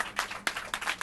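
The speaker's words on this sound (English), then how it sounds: "Clap it up." Four or five separate claps from a small group after the winner of a rap battle is announced, uneven and fairly close, with short gaps between bursts.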